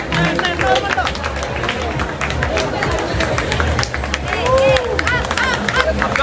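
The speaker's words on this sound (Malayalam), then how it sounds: "എല്ലാവരും ചേർന്ന് കൈയടിക്കൂ" A crowd claps and cheers at a pushup challenge on Kozhikode Beach, the loud, busy applause mixing with excited chatter and shouting voices close by.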